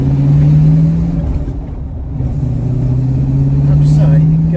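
A manual Plymouth Cuda muscle car on a test drive, its engine holding a strong steady tone that dips briefly mid-way as revs change and then climbs back, heard from inside the car.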